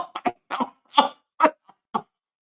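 A woman who smokes coughs in a series of short, harsh bursts, about seven separate coughs spread unevenly, close and fairly loud with brief silences between them.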